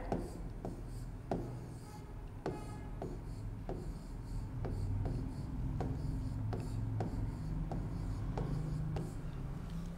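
A number is written by hand, likely 140 in a grade 2 maths lesson, as a series of short scratchy strokes and light taps that come close together and repeat at an uneven pace, with no speech.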